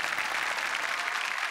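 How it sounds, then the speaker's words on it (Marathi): A studio audience at a Marathi comedy stage show applauds, dense and steady clapping that stays at an even loudness throughout, with no voices over it. "त्यांच्यासाठी जोरदार टाळ्या."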